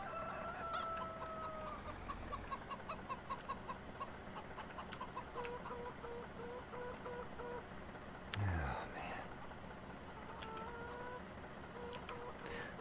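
Chickens cluck around a chicken coop in Farming Simulator 17, repeated clucks and calls spread over a continuous game background with mechanical ticking, plus one louder burst partway through.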